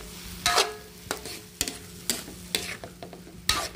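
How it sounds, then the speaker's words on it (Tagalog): Bottle gourd (upo) with soy sauce and a Knorr cube cooking in a pan, a soft steady sizzle punctuated by six sharp spatula scrapes and knocks at an uneven stirring rhythm, with no voices. "Haluin na ng haluin. Para pantay yung pagkaluto."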